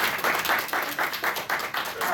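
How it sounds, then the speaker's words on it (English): A convention audience at an anime game show applauds in a rhythmic round of unison clapping, with pulses of loud claps in steady succession. "give a round of applause now"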